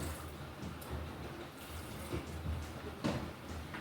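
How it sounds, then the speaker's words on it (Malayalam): Water is poured into a pressure cooker holding tomato, green chilli, garlic and ginger for an egg curry, giving a soft, steady splashing trickle that stays faint and even for a few seconds. "കുറച്ച് വെള്ളം ഒഴിക്കാം"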